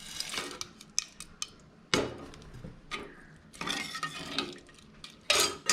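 Whole spices such as pepper, dried chillies, cinnamon, cloves, cardamom and bay leaf dropped into a pan for ghee rice, giving scattered close clinks and rattles, a few sharper hits and stretches of soft scraping.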